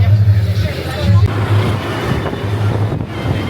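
Interior of a bus on winding country roads in Sri Lanka, with a rumbling engine drone, wind buffeting and rattling cabin noise, plus a person talking briefly over the constant din.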